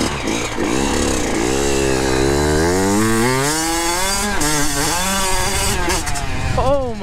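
A Kawasaki KX85 two-stroke dirt bike engine screams at speed close by, its pitch climbing steadily through the revs, dropping briefly and climbing again, with wind noise throughout.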